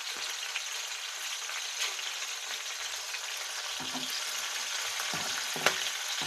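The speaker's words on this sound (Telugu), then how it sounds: "చూసారా ఇదిగో మినపప్పు కూడా చక్కగా వేగిపోతుంది" Urad dal, tomatoes and coriander sizzle and fry in hot oil, a steady bright crackle running throughout with occasional louder pops and stirring scrapes, close and alone without speech.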